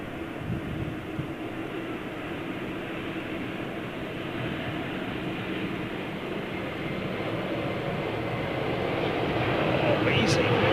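A large aircraft lands at London Heathrow with thrust reversers opening, a steady broad roar that builds toward the end of the clip and stays loud and continuous throughout.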